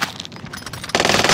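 Video game gunfire crackles in dense, rapid bursts, starting as a busy rattle and growing into a louder, sustained barrage of shots near the end.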